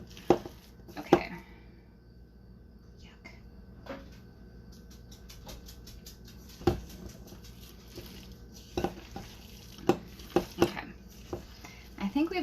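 A spoon working through a very heavy zucchini cheddar bread batter in a bowl, with sporadic knocks and scrapes against the bowl at an uneven pace, fairly close, with quiet kitchen background between strokes.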